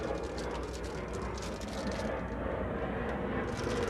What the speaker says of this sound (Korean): 비행기 소리가 아주 멋있게 지나가고 있습니다